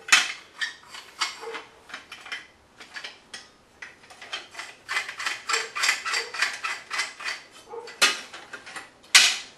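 A collapsible survival shovel folds into a compact package, with a run of close metallic clicks and ratcheting snaps in irregular bursts, some louder clacks among them.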